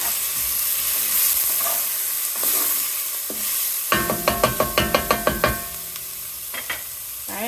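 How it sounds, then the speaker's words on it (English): Garlic sizzles in a hot pan, then a spoon stirs it with a quick run of about ten rhythmic knocks against the pan over a steady close frying hiss, with no speech. "I'm going to add my garlic. I'm going to stir that up."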